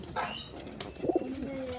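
Pigeons cooing nearby, a couple of low throaty coos with a brief chirp, over quiet background noise.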